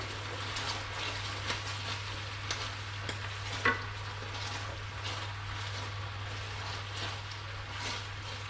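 Honey chicken sauce bubbles in a pan while being stirred, a gentle sizzle with occasional spoon scrapes and taps over a low steady hum, no speech.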